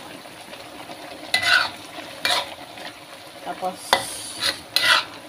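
Onions being stirred in a frying pan with wine, oyster sauce and bay leaf, a soft steady sizzle broken by several brief louder scraping stirs near the end.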